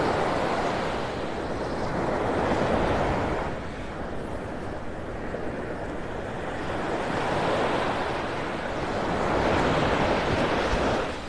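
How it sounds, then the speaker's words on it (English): Steady ocean surf rolling onto a Gulf beach at Vanderbilt Beach, Florida, at early morning, a continuous loud wash of breaking waves swelling and easing in slow cycles, with some wind buffeting and no voices. "The surf is up."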